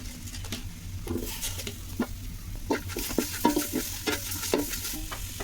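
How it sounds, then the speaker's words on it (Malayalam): Chopped tomatoes fry with spices in a pan for a chicken curry, giving a steady sizzle broken by repeated scraping stirs of a spoon against the pot, close and fairly quiet, with no voices. "തക്കാളി ഇട്ട് കൊടുക്കാം."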